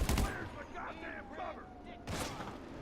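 Gunfire in GTA 5, a loud burst of shots at the start and another sharp report near the end, with voices talking in between over a low background.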